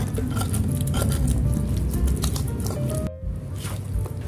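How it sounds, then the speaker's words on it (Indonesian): Boiled chilies for sambal are ground into paste, a close, continuous wet squishing and mashing with dripping texture, briefly pausing before resuming. "Karena ini udah direbus jadi mudah ya bun untuk dihaluskannya"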